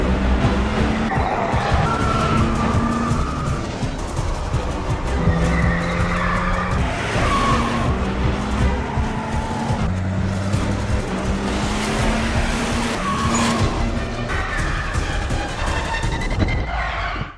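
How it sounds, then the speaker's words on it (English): An Audi reverses at full throttle, tires squealing and skidding continuously as the engine roars; a loud, sustained chase scene through a car lot. "She floors it in reverse as a black BMW comes after her."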